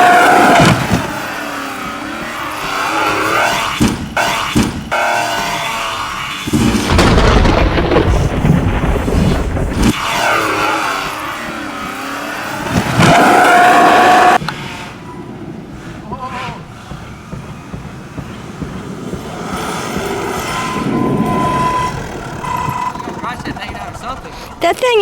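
A Redcat Vigilante RC monster truck driving hard with a high electric motor whine and bursts of revving, heavy loud stretches broken by quieter gaps, with people talking over it.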